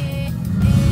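A Renault Mégane race car takes a bend at the 2022 Terre en Fête race meeting in Marigné-Peuton, its engine a steady, fairly loud low drone for a brief moment.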